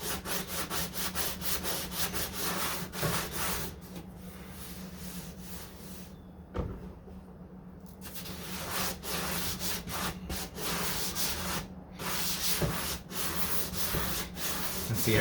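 Hand sanding on the hood of a 1969 Corvette C3, close up: continuous scratchy back-and-forth strokes in a steady rhythm, with a brief pause partway through before the rubbing resumes.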